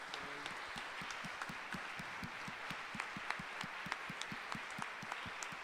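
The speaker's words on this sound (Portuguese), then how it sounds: "Uma salva de palmas." Applause from a church congregation at a Catholic Mass homily, a soft, steady patter of many hands clapping at a distance, fairly faint and continuous throughout.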